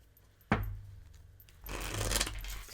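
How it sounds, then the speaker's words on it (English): Tarot cards are shuffled at close range: a sharp snap, then a brief pause and a longer rustling riffle. "Let's shuffle again."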